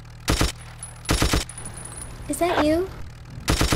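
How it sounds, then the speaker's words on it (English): Video game gunfire comes in three rapid, loud bursts of automatic fire, separated by pauses, with a voice speaking briefly in the gap between them. "Who's shooting me?"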